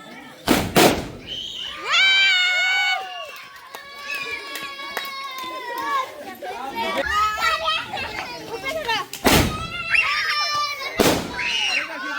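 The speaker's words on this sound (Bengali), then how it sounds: "রকেট বুম ফুটানো হচ্ছে" Rocket bombs and fireworks go off at a night wedding, several sharp loud bangs and whooshes, while excited children shout, scream and chatter close by.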